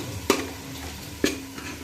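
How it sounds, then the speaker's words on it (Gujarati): A spoon stirring tomatoes and onions sizzling in a pan for Kathiyawadi batata poha, with two sharp scrapes against the pan over a steady frying hiss. "થોડી વાર પાકવા દઈશું, હલાવતી રહેવાનું છે."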